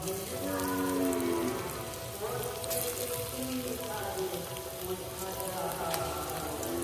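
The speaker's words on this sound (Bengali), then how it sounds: "এবার আমি পকোড়াগুলো ভেজে নিচ্ছি।" Soybean pakoras deep-frying in hot oil in a village kitchen, a dense, steady crackling sizzle like rain, loud and close, running throughout over faint tonal background sounds.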